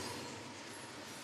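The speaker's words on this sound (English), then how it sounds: "A train is coming." A train approaching a railroad crossing gives a steady, loud broadband rumble and rush with no break and no voices.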